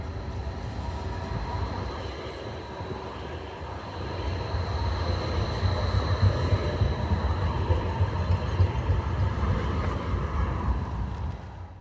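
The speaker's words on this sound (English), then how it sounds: "I could see the trains travelling on the wrong side of the road." Badner Bahn tram-train running along the road in Vienna, a steady low rumble of wheels on rails that slowly swells as it draws closer, with faint traffic hum and no voices.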